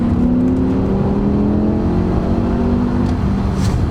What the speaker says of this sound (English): So give it a little bit of acceleration.